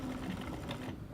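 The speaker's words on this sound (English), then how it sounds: "So let's go ahead and sew that." A sewing machine stitches a dart in fabric, giving a faint, quick run of mechanical ticking that stops abruptly after about a second, with no voices.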